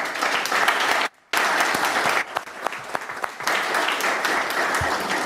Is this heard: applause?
yes